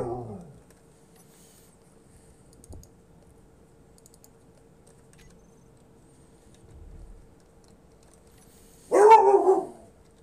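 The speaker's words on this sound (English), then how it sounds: "Always barking." A dog in a video game gives a short burst of loud, close barks near the end, after quiet stretches with a faint thump and low rumble.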